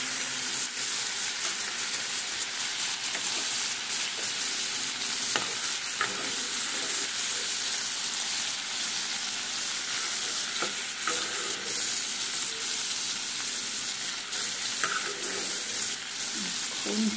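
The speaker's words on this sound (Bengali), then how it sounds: "চিংড়ি মাছটাকে বেশি ভাজবো না" Prawns frying lightly in a pan of hot oil give a close, continuous sizzle while a utensil stirs and scrapes at them, with occasional knocks against the pan and no talking.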